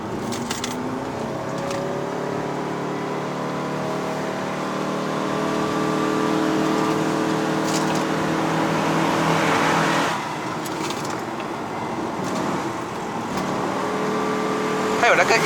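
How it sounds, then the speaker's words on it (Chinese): A Toyota Camry XV70 Hybrid Ascent Sport climbs the road up to Genting in Malaysia, its intake note swelling and easing with throttle. A brief lull comes near the middle and then the note rises again, with occasional voices over it. "还有那个 intake 的声音哦，人家听到车来哦"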